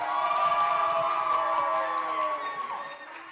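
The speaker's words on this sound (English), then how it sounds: "Listen to that crowd go wild." A crowd cheers and shouts at a Pi Day pie eating contest as a winner is named, a dense wash of voices that swells and then fades over a few seconds.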